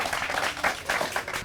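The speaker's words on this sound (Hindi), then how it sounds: "जोरदार तालियां हो जाए इनके स्वागत के लिए" Audience applause welcoming a quiz participant at an outdoor village gathering, a brief burst of scattered clapping from a crowd, moderately distant and somewhat faint.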